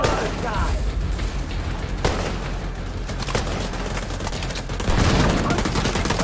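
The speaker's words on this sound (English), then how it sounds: "Let's throw another grenade up there." Gunfire rattles without a break through a firefight in the video game The Division 2, with a thumping boom now and then from thrown grenades. The whole clip stays loud and crowded.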